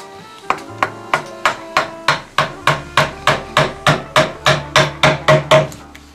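A wooden mallet drives a chisel into wood while carving a kopjafa, a Hungarian carved wooden post, giving a steady run of about seventeen sharp, evenly spaced knocks, loud and close with no talking.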